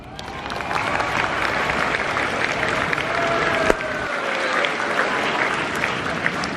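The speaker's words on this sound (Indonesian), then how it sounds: "Betul, tepuk tangan." Steady applause from a crowd at a police program outreach event, dense clapping that holds at an even level throughout, with a few louder claps standing out.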